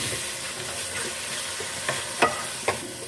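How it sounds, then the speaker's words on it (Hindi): Half a kilo of minced meat frying with onions in a pan, a steady close sizzle broken by a few sharp scrapes of stirring, with no talk. "4 से 5 मिनट के लिए अच्छे से हम कीमे को फ्राई कर लेते हैं।"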